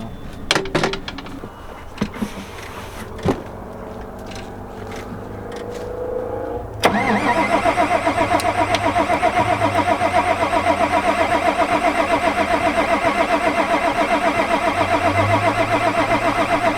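A car engine with a fuel pump fault cranks with faint clicks, then the starter turns it over in a loud, steady rhythmic churn that keeps going without catching, heard close up.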